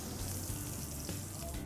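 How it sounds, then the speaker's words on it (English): Slow-roasted short ribs, tender enough to fall apart, sizzle and pop steadily in hot fat. The hiss runs continuously and fairly quietly throughout, with no voices. "There's like sizzling and popping noises."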